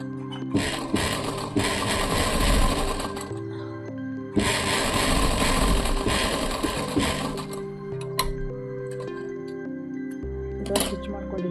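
A sewing machine stitches a folded pocket onto a kid's pant in two long, loud runs of rapid whirring, with a pause between them and a quieter, patchier stretch at the end, over background music.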